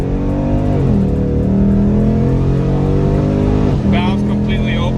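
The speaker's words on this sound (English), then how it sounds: "So this is what the car sounds like with the active exhaust." A 2019 Mustang GT fitted with a Borla Atak active exhaust, valves fully open, rumbles loud and close, its engine tone rising and falling steadily through a rev with a brief dip near the end and a sharper high-end burble.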